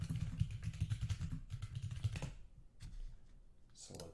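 Fingers type on a computer keyboard to write a comment, a close, quick run of soft clicking keystrokes that thins out into a few scattered taps.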